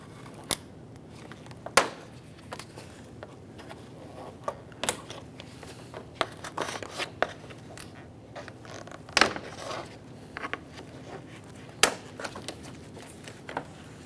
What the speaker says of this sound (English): Just using my trim tool, pry it out of place.